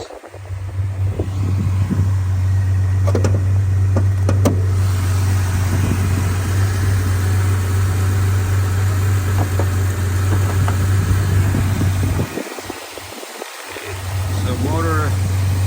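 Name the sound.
1991 Chevy S-10 engine idling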